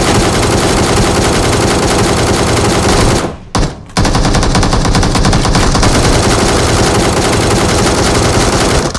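Rapid automatic gunfire in a shooter video game, loud and continuous bursts filling the scene, broken by one brief gap of near silence before the firing resumes.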